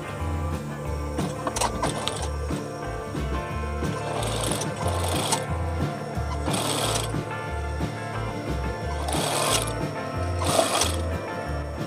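A sewing machine stitches a curved hem on a round-collared gamis dress, its motor humming in steady runs with brief pauses and speed changes, close and alone.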